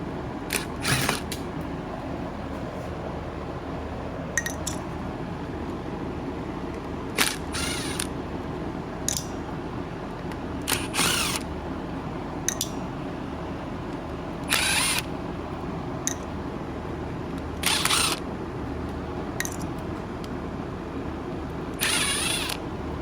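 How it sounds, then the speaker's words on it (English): Screws are being removed from a Simplicity Symmetry vacuum cleaner during a cord replacement. Short ratcheting bursts of a screwdriver or power driver recur about a dozen times, separated by quieter handling noise. "So all we have to do is just, as I said, remove all these screws."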